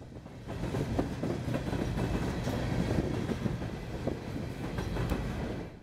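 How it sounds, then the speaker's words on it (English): GE Evolution diesel locomotives lead an empty BNSF coal train on the Fort Scott Subdivision main line, a loud, sustained engine roar with rolling wheel and railcar clatter passing steadily close by, no voices. "These Gevos put on a loud performance on the head of this empty RWX coal train"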